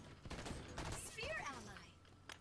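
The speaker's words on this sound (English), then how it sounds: "Oh, you threw a grenade." A grenade goes off during a Halo 5 match in Oddball mode, giving a short burst of bangs and crackling amid game noise, with people talking over it.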